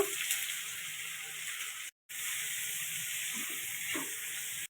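Onions and whole spices (cumin, cinnamon, cloves, cardamom, bay leaf) sizzling in hot oil for chicken curry, a steady close broadband hiss with a brief cut midway and small pops.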